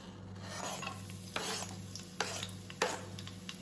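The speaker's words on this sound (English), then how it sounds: "once it heats up, I'm going to add some garlic and green chilies" Garlic and green chilies hit hot groundnut oil in a pan for burnt garlic fried rice, giving a soft, steady sizzle with a few scraping stirs of a utensil against the pan, close and fairly quiet.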